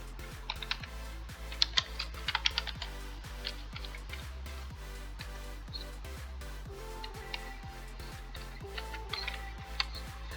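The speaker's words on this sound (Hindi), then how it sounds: "यहाँ मैंने अपना चैनल का नाम लिख लिया" A computer keyboard clatters with quick, uneven bursts of keystrokes, close and fairly quiet, while a channel name is typed into a Canva design.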